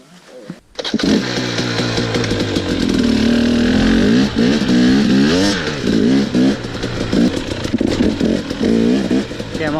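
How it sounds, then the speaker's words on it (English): A motorcycle engine fitted with JD jetting and a Mikuni carburetor starts and revs loudly close by, its pitch climbing and falling through a run of throttle blips. "I'm on Danny's bike with the JD jetting and Mikuni carb"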